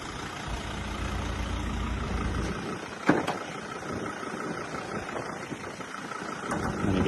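A Ford Ranger 3.2 engine idles with the bonnet open, giving a steady, even low rumble close to the microphone. There is a single brief clunk partway through, and no one speaks.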